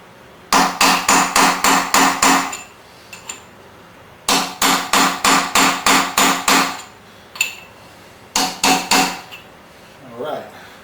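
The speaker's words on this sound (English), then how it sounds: "you'll actually feel a little more firmness when you hammer, and it'll make a different sound when you're done" Hammer blows drive a camshaft gear drive onto a 454 Chevy engine, sharp metallic strikes in three rapid bursts of about seven evenly spaced hits each, with a few single taps between and a brief voice near the end.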